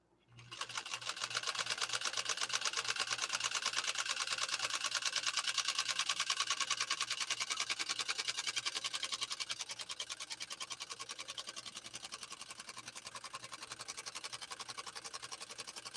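A PFAFF 130-6 sewing machine runs steadily and fast, its needle mechanism producing a rapid, even mechanical chatter with a low hum underneath, close and continuous throughout and slightly easing in loudness toward the end.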